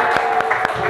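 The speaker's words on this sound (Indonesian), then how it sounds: "Tepuk tangan kelompok 1." A classroom of students claps for the first group about to present a traditional dance, with brisk, fairly close handclaps repeating in a quick rhythm and light voices mixed in.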